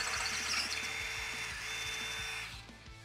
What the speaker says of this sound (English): Enlarge it with a 5/16 inch drill bit.